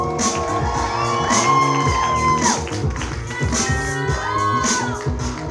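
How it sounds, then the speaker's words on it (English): Wedding reception crowd cheering, whooping and applauding a bridal party member's entrance, loud and continuous over pulsing music, with excited voices carrying through. "And a big round of applause for Rachel."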